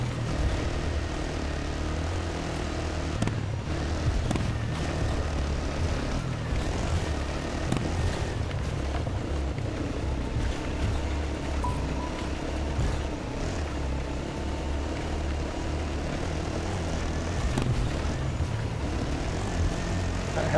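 In the Dakar Desert Rally video game, a helicopter following a quad gives a loud, continuous droning rotor and engine roar that stays steady throughout, mixed with low engine rumble and no speech.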